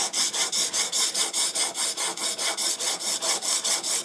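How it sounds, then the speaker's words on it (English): Rhythmic, gritty scraping strokes repeat steadily, about four per second, as a knife blade is drawn back and forth across a diamond sharpening plate. "you can hear how well that's sharpening"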